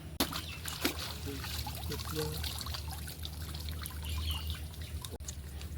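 Water trickling and draining from a fish trap set in a Sundarbans village pond, a steady close dribble and splash running throughout with faint voices in the background.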